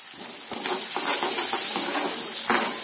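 Chopped onion with turmeric sautéing in hot oil gives a close, bright sizzle broken by several scraping stirs of a spatula, loud and without any voices.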